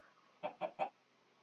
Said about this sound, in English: there were plenty of chickens around, so I just gathered a few of them up and corralled them in this area right here